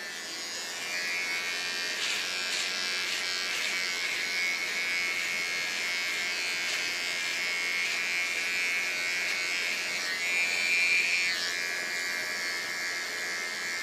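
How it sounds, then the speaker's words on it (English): An electric hair clipper buzzes steadily in a salon while cleaning up the neckline of a short bob haircut, a continuous close, even whir that holds for the whole stretch with only slight changes in pitch. "Go to my clipper."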